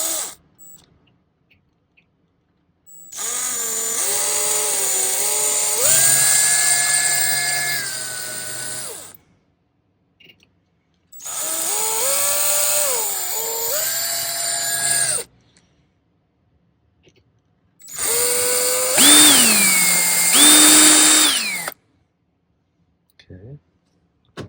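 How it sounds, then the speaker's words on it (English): A small drill bit boring a starter hole in silver for a handmade ring, three sustained whining bursts of a small rotary tool whose pitch shifts as it bites, close and loud, separated by silent pauses. "we'll do a starter hole, a smaller drill bit."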